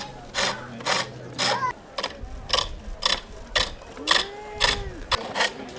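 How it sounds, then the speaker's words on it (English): A foot-treadled pole lathe, sprung by a wooden pole, turns wood with a chisel, giving a steady rhythm of about a dozen sharp, close scraping cuts, each stroke separated by a brief pause. "These are called pole lathes, and they get the name from the pole that gives the spring for the treadle."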